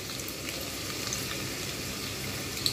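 Chopped onions frying in white oil in a wok over low heat, a faint, steady sizzle with soft crackle throughout.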